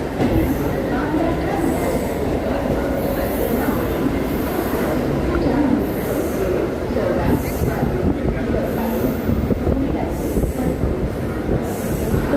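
A Borivali–Surat MEMU passenger train runs steadily close by, a dense, continuous rumble of wheels and carriages with faint high squeals, loud throughout with a voice partly under it.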